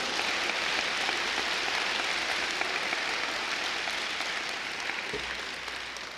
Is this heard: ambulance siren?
no